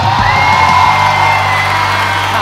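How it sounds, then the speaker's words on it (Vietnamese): A studio audience at the Vietnamese talk show Thiếu Niên Nói shouts and whoops loudly as a teenage contestant walks on stage, a dense crowd roar with shrill, sustained yells running throughout. "Sao mới bước ra mà la hét quá vậy?"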